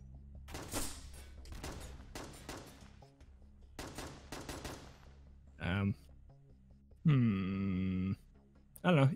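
Gunfire in Synthetik: Legion Rising, clusters of sharp, rapid shots in short bursts, followed by louder tonal electronic effect sounds, with people talking at times.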